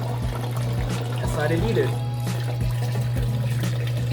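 An aquaponics water pump hums steadily as water gurgles and splashes close by, while a voice talks over it.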